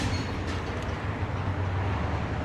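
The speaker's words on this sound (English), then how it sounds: "Got some loud clanker cars going by." Loud railroad cars roll past close by, making a steady, dense rumble with a low droning hum. The sound holds at the same level for the whole stretch, with no talk over it.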